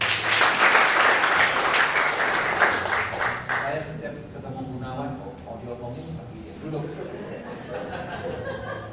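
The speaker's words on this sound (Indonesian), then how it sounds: "Biar semangat ya, tepuk tangan dulu." Congregation applauding during a church sermon, dense clapping for the first few seconds before fading as a voice resumes speaking over a reverberant hall.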